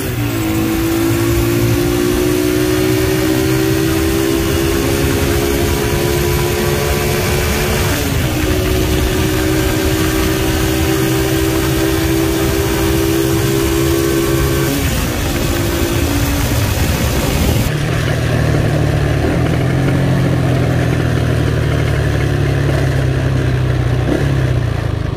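A motorcycle engine with a faulty ignition coil runs steadily and loudly up close, its pitch drifting and dipping as it bogs and recovers, with a marked change near the end and no voices.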